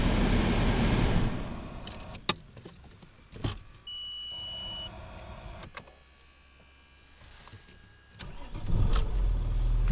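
A Range Rover diesel engine is switched off and cranked back to life: loud idle, a sudden cutoff with clicks and a whir, quiet pause, then the engine catches and rumbles again.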